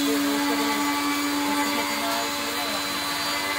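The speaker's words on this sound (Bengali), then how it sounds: "বাবা লঙ্কা গুঁড়ো করছে, তার জন্য ওই মিক্সির আওয়াজ হচ্ছে।" An electric mixer grinder powders dried red chilies, its motor whining loud and steady without a break, with a constant hum and a rattling grind running through.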